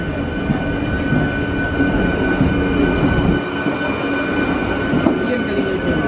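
A train pulling into Dabhoi station, heard as a steady loud rumble of rail cars close by with a faint high whine, continuous for several seconds without distinct voices.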